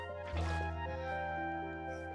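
Water placed from a bucket in the video game Minecraft makes a brief liquid squish and splash over steady, tonal background game music.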